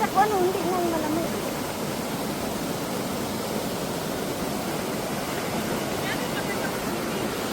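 River water flows steadily past a riverside spot where friends drink coffee, a broad continuous rushing wash that stays even throughout, with a brief voice at the start.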